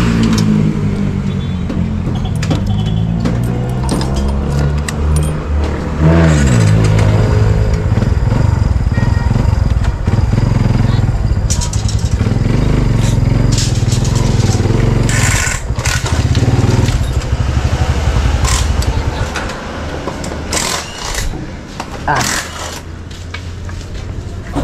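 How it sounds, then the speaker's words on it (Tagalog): A motorcycle is wheeled in with its engine running, revving loudly and unevenly up close, then settling to a lower rumble with some clatter and background activity. "Pasok muna natin yung ating motor."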